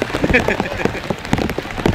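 Steady rain falls outdoors at a comedic religious sermon gathering, a broad even patter running throughout the two seconds, with faint voices murmuring beneath it.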